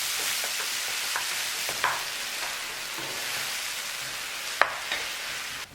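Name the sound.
brinjal (eggplant) frying and being stirred in a pan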